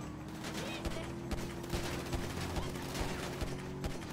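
Rapid automatic gunfire in GTA V Online, dense bursts of shots crackling over a continuous low in-game hum, with sharp individual reports standing out near the end.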